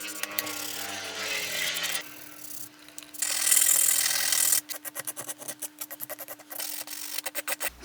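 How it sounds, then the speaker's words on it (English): Soft plastic fenders on an RC XJ Cherokee body being sanded by hand, with a steady raspy rub first and then a quick run of short, rhythmic scraping strokes close up, alone and fairly loud. "This is pretty soft plastic, so it really doesn't take very much to sand it smooth the way you want it"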